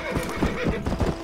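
A horse in the Red Dead Redemption video game clip-clops with quick, rhythmic hoofbeats and gives a whinny, close and clear over a faint game background.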